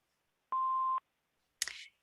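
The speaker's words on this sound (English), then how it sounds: "Please leave your name and phone number after the beep" An answering machine gives a single steady electronic beep lasting about half a second, clear and alone in silence, followed by a short burst of noise.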